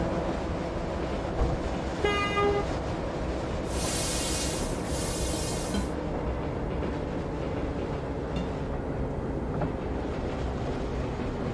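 A train rumbling past under trolley wires in California, a loud continuous roar with a short horn toot early on and a burst of hissing noise midway, no voices.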